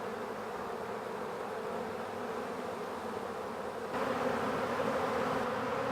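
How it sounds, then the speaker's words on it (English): Honeybee swarm moving into a hive box, a steady dense buzzing hum from many bees close by, growing slightly louder toward the end. "That is textbook swarm collecting."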